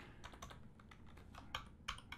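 Someone types on a computer keyboard in a quiet room, producing soft, irregular clicks in small bursts, with a couple of slightly louder keystrokes near the end.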